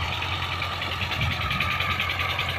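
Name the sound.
tractor engine idling before rotavating field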